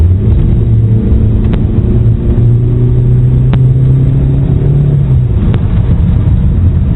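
A 1999 Volkswagen Passat's turbocharged engine hums and rises in pitch as the car accelerates, a steady close rumble inside the cabin with no speech.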